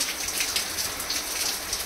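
Rain falls steadily outside a home, a soft, even hiss of drops, heard alone and fairly quiet.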